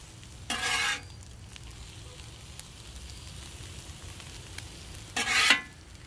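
Peppers and onions hit a Blackstone griddle while a cheesesteak is being made: two short, loud bursts of sizzle a few seconds apart over a quiet, low background hum.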